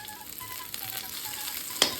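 Green chilies and ginger sizzle in hot oil with golden urad dal for raw banana podimas, a soft steady frying hiss close by with a sharp clink near the end.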